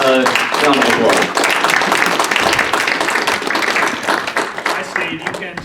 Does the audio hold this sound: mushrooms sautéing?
no